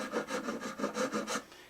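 A file rasps across the nut of a Martin D15 acoustic guitar in six or seven even back-and-forth strokes, close and fairly quiet, with no talking.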